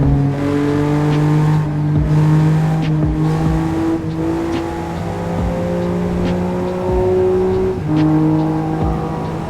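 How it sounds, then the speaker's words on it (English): A BMW M3 F80 engine revs hard inside a tunnel, its loud droning tone climbing steadily through several gears with brief drops at each shift, echoing off the walls with no talk over it. "this car sounds great in tunnels"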